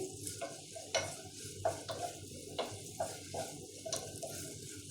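Steady sizzling of whole spices dry-frying in a pan, with repeated scraping stir strokes roughly every half second to second, close and moderately loud, no talking.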